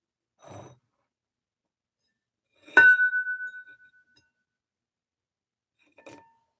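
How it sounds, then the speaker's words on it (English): Objects are clanked on a table as live sound effects for an audio drama: a soft knock, then a bright glassy clink that rings out for about a second, and a faint final tap, each isolated in silence. "We have a couple more seconds of clanking sounds, basic clanking sounds, not fine-tuned clanking sounds, just kind of stuff on the table."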